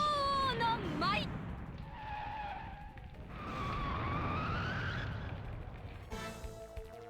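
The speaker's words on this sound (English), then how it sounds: "Sounds less like a phoenix and more like a screeching car." A screeching car sound from the Sega Saturn game Sakura Wars rises and falls in several long whining sweeps over a low rumbling roar, loud and close, with a sharp squeal at the start and a bright burst at the end.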